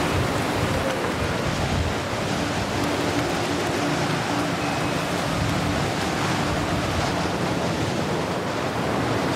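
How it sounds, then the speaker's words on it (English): Typhoon wind gusting at about 110 to 120 mph roars continuously and loudly, a dense, unbroken rushing noise that buffets the microphone for the whole stretch. "120 mile an hour wind."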